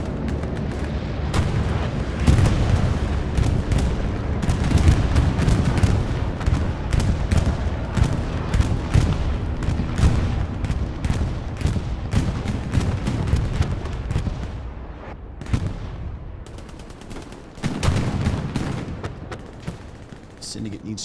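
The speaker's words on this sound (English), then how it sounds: "Hearing bombing run. Sounds like an Asprit bomb run." A bombing run in Hell Let Loose, with dense rolling booms and explosive thuds that pound continuously for many seconds before thinning into a few scattered blasts.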